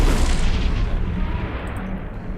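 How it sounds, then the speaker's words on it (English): A ship blowing up in EVE Online, a loud, broad rumbling blast that starts at full force and slowly fades into a low roar with no other sounds. "This is about to explode."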